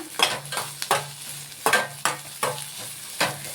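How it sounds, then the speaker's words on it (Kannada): Garlic and ginger fry in a pan for chicken biryani, with a soft steady sizzle broken by repeated scraping stirs of a spoon at a brisk, regular rhythm, close and alone. "ನೋಡಿ, 2 ಬೆಳ್ಳುಳ್ಳಿ, ಮತ್ತು ಶುಂಠಿ. ಈಗ ಇದಿಷ್ಟನ್ನು ಫಸ್ಟು ಚೆನ್ನಾಗಿ ಫ್ರೈ ಮಾಡ್ಕೊಂಬಿಡೋಣ."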